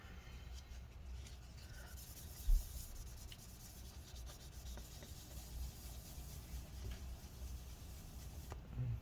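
Faint, steady rubbing as alcohol-soaked material wipes residue inside a 2012 15-inch Retina MacBook Pro A1398, a soft continuous scrubbing hiss with one small knock, close and quiet.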